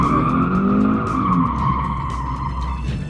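A car drifting through a cone course at a racing circuit with the engine held at five to six thousand rpm, a long loud tire squeal over a steady droning engine.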